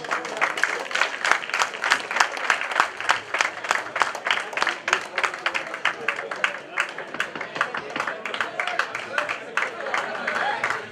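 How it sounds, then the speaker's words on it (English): Audience applause at a Florida cricket association award ceremony, a sustained run of dense clapping with sharp individual claps standing out, fairly close and steady throughout, with faint voices mixed in. "Applause, guys, please."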